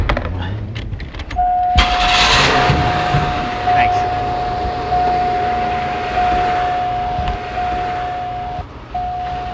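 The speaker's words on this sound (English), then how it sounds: "start the engine, open the hood for me" A 1988 Buick car's engine is started and settles into a steady idle, heard up close with a tonal whine running under it and faint background voices, with the car being diagnosed for automatic transmission shift complaints.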